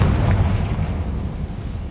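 A Confringo blasting spell explodes in Hogwarts Legacy, a heavy, continuous low boom and rumble that fills the full two seconds at close range, with no voices over it.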